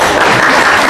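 An audience at a public political talk show event applauds, loud dense clapping from many hands filling the moment, close and continuous with no voices.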